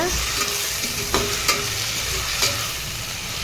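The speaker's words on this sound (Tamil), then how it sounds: "இதெல்லாம் நல்லா வணங்கட்டும்" Onions, tomatoes and three green chillies sautéing in a pan for fish curry: a steady, loud close sizzle with a few sharp scraping clicks from stirring and no voices.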